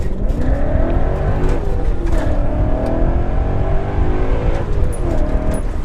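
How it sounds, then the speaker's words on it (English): A BMW E39 M5 fitted with an ESS VT560 supercharger kit drives along, its engine droning steadily from inside the cabin with shifting pitch as it pulls and revs, loud and continuous. "So we're in the E39 M5. This is my car, and it has the ESS VT560 kit on it."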